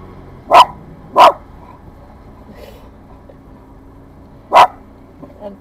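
A dog at a holiday park barks three times, two quick close barks, then a pause and a final loud bark over quiet background.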